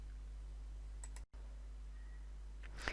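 A computer mouse click in office software, a faint brief click near the start against a steady low hum, with a sharper burst of clicks near the end.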